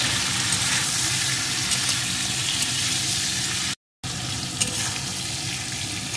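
Rohu fish pieces with salt, turmeric powder and four slit green chillies are stirred in a pan for an okra and potato curry. A loud, dense, close sizzle runs steadily, broken by one brief silent gap.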